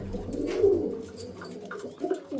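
Close pigeons of the Kalanka and Andhra breeds give soft, low, repeated coos, several overlapping phrases rising and falling over a brief stretch.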